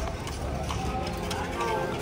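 Horse-drawn carriage hooves clip-clopping steadily on a street in a Cuban provincial town, a continuous rhythmic clatter with traffic and background chatter around it.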